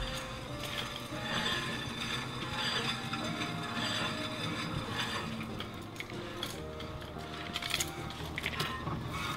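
Spinning rear wheel on a Lexus IS300 with grinding rear rotors gives off a faint, steady scraping and rhythmic ticking brake noise under a low mechanical hum, no voices present.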